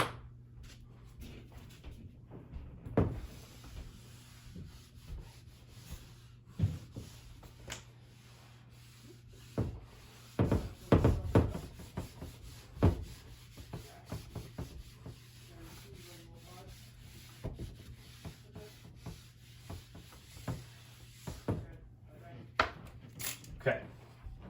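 An eraser rubs across a classroom board in soft, irregular strokes, mostly faint with a cluster of firmer scrubbing passes near the middle, alone without talking.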